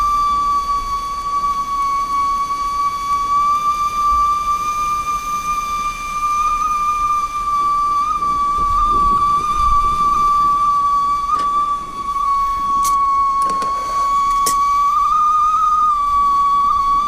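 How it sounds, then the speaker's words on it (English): A Ghillie camping kettle whistles as its water boils, a loud, steady high-pitched tone held for the whole stretch with faint steam hiss beneath, close and with no talking. "That's quite a good whistle."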